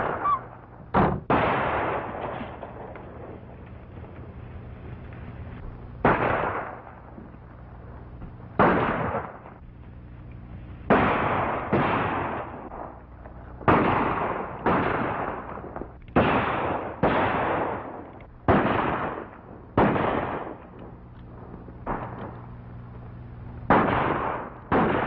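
A string of sharp gunshots in a Western ranch scene, over a dozen loud cracks in irregular bursts, each followed by a short echoing decay.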